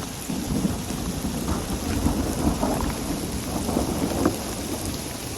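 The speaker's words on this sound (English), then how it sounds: "A thunderstorm rolled in fast over Bighorn Plateau, bringing heavy hail and mosquitoes." A thunderstorm over a high Sierra plateau brings a steady, dense roar of heavy hail and rain pounding down, with low rumbles of thunder rolling beneath the continuous downpour.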